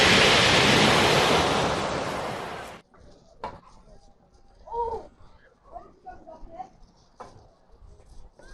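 Waves breaking on the shingle beach at Beer on the Devon coast, a loud rushing wash close by for nearly three seconds before cutting off, followed by quiet background with people talking.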